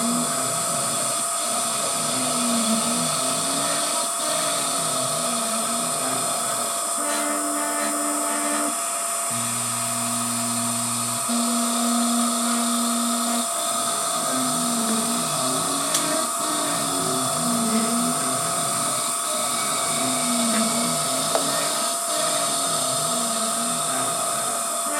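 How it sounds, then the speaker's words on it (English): An Emco F1 CNC mill cuts a bed guide block, giving a steady whine with repeating sweeping tonal passes, brief shifts in pitch midway as the tool moves, and constant machine hum underneath. "the tool comes back to the centre of the hole each time, so it can plunge down in the pre-drilled hole"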